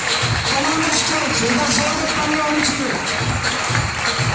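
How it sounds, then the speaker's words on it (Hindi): Loud sustained applause from an audience at a stage event welcoming silver-level achievers, steady dense clapping throughout with a host's voice speaking over it. "हमारे सभी सिल्वर अचीवर्स का जोरदार तालियों से स्वागत किया जाए।"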